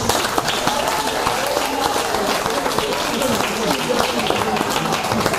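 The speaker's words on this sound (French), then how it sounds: "qu'on peut applaudir." Loud, steady applause from an audience at a live electronic music show in Saint-Malo, many hands clapping densely and continuously throughout, close and full, with some crowd murmur mixed in.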